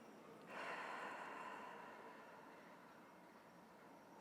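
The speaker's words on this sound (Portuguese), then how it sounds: "Quando você inspira pelo nariz, você solta o ar pela boca" A single slow breath is let out through the mouth during a guided meditation, a faint, soft airy exhale that rises quickly and then tapers off gently, with no speech.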